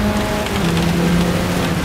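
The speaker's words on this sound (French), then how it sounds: "bien sûr, et ça pleut fort déjà." Heavy rain in the racing game Gran Turismo 7 pours down loudly and steadily, a dense hiss of drops drumming on a surface, while a car engine drones low underneath.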